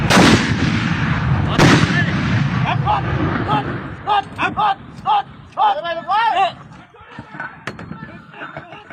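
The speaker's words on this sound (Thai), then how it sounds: "จับเชือกยิง" A military artillery gun fires on its lanyard pull with a loud, close boom that rolls away into the distance, and a second blast follows shortly after as soldiers talk nearby.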